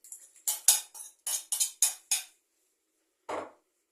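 A utensil clinks against a bowl while blood sausage filling is mixed and onion is added: a quick series of sharp, close metallic taps, then a pause and one last knock.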